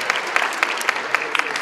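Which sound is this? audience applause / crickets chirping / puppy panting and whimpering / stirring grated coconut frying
audience applause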